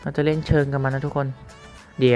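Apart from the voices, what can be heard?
No everyday noise stands out behind the speech.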